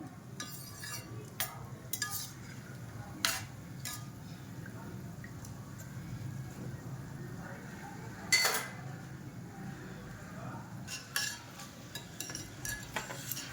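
Cashews and almonds fry in a pan for a sweet potato chivda snack, with a quiet background sizzle and occasional sharp clinks and scrapes from a stirring spoon against the pan.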